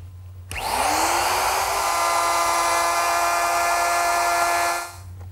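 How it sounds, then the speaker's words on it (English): A handheld router fitted with a collar and a straight cutting bit cuts a dado in wood along a straight edge clamp, a loud high whine that spins up, holds steady for about four seconds, then winds down. No one speaks. "To make the dado, I'm going to use my router, which is equipped with a collar and a straight cutting bit."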